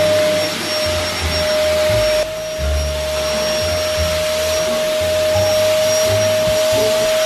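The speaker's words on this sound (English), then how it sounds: "I think you should clean my room. And do that by hoovering my room." A vacuum cleaner hoovers a room, its steady, loud whine running throughout. A brief dip and shift in its drone hints at the nozzle moving across the floor, and no one speaks.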